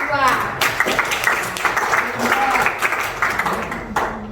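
Students in a classroom clap for a presenting group during a lesson on consumer roles, a dense patter of applause mixed with chatter and voices throughout, fairly loud and close.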